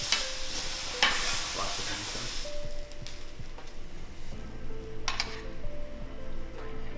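A beef fillet sears in a hot pan with a steady sizzle, broken by a few metallic clinks and scrapes as it is turned, heard close up with no talking.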